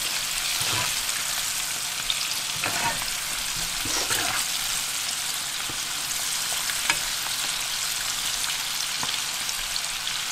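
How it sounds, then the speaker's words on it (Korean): Cutlassfish frying in oil for a Korean spiced dish, a dense steady sizzle and crackle, close and constant, with a few faint clinks and no talking. "갈치가 노릇 노릇하게 맛있게 익었을 땐 그때 내면 됩니다. 조금 더 튀겨야 되겠습니다."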